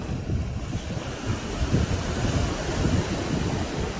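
Sea waves wash onto the shore at Mahabalipuram beach, a continuous rumbling surf mixed with gusty wind buffeting the microphone, with no voices.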